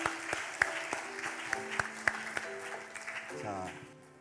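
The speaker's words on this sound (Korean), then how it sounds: "다시 한번 이 다섯 분을 축하하는 의미에서 뜨겁게 박수로 환영해 주시면 감사하겠습니다." Church congregation applauding newly appointed deaconesses at a Sunday worship service, a steady wash of clapping with sharp individual claps standing out and music sustaining underneath, fading toward the end.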